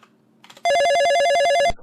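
A telephone in the Police Quest 1 video game rings after dialling, one loud, sharp electronic trill lasting about a second, preceded by faint dial tones.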